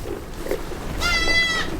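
On a farm, a goat that recently kidded gives a single loud, wavering bleat close by, preceded by quieter farmyard murmur.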